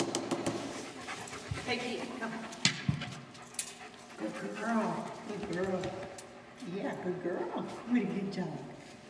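A dog pants and whimpers indoors in quiet, irregular bursts, while people talk nearby.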